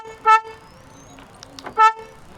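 A 2025 Hyundai i20 Magna horn gives two short, loud chirps about a second and a half apart, heard up close outdoors with faint ambient noise between them.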